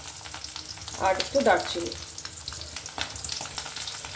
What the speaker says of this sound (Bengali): আর ফোড়ন দেব হচ্ছে তেজপাতা, শুকনো লঙ্কা, এলাচ